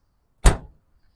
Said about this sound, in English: Good closing doors